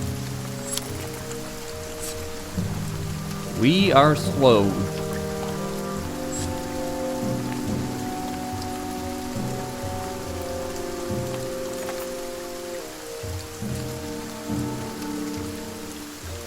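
Heavy rain falls steadily in the video game Banner Saga 2, in a boggy region. A constant wash of downpour sits under sustained musical tones, and a voice speaks briefly.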